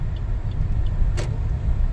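Heavy road traffic from many vehicles packed on a hilly ghat road near the Ekvira temple: a steady, close engine and tyre rumble that holds throughout, with one brief higher hiss partway through.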